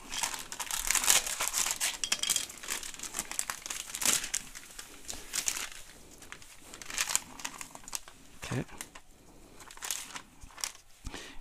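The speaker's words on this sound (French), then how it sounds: "Donc on va ouvrir les nouvelles plaquettes." Packaging being opened on new rear brake pads for a Kawasaki Versys 650 motorcycle, close crinkling and crackling of plastic and cardboard in irregular bursts, loud at first and tapering to softer rustles.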